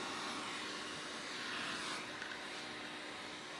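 A hot air rework tool blows on a cell phone integrated circuit to warm it for reballing, giving a steady, soft, airy rushing hiss with no breaks.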